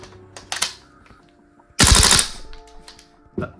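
A VFC V3 gas blowback airsoft rifle fires in crisp, snappy bursts. A few short clicks and shots come first, then one loud rapid burst of about half a second, then a final shot, all close and dry against near silence.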